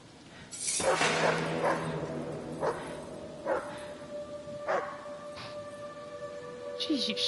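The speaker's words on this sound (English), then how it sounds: "Jeez, you stupid dog." A dog barks in the video game Hidden Agenda: several sharp, spaced yaps over a steady electronic hum and game ambience, with voices murmuring in the background.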